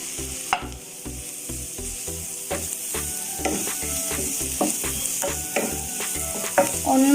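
Shallots, crushed coconut, green chilli and garlic frying in a pan, a steady sizzle under repeated spoon scrapes and stirs, close and continuous, no voices.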